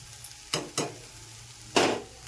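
A ground mix of coconut, garlic and dried chili powder fries in a pan: a few short, scraping stirring bursts rise over a faint, low sizzle, with no talking.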